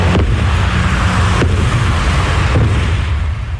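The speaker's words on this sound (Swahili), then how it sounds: "Nchini Iran, milipuko mikubwa imesikika siku nzima." Distant explosions from missile strikes in Iran, a constant heavy rumble with a few deep booms rolling through it.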